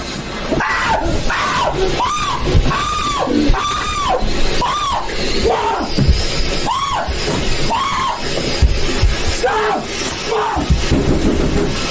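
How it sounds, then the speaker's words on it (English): A man yelling during a fireworks display, repeated loud drawn-out shouts in a rapid series over crackling bangs and background noise, close and strained. "he's yelling for the fireworks to stop"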